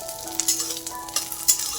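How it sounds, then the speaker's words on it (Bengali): Grated coconut frying in a pan sizzles steadily at close range, with light stirring scrapes and small crackling bursts over a continuous hiss; no voices. "নারকেলটা ভাজছি"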